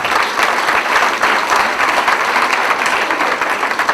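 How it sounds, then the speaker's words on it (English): An audience at a 2008 community democracy celebration claps steadily, a dense, loud wash of many hands sustained throughout without pause, close and full. "I know you're clapping for all of us as we come up"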